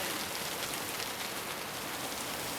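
Steady heavy rain pours down in a Scrubs TV hospital drama scene, a dense, even hiss of drops on surfaces filling the whole moment with no speech.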